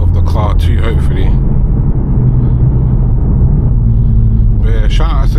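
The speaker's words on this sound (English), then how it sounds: "This one's a lot louder than the RS, the racing line intake that I had on there" A VW Golf R fitted with an Integrated Engineering air intake gives off a loud, steady, close engine rumble while driving, with someone talking over it at the start and end.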